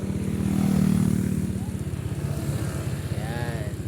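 A motorcycle engine putters steadily at close range as it is ridden around the Nasugbu area near Taal at dusk, its low rhythmic thrum continuous throughout with a faint brief whine near the end.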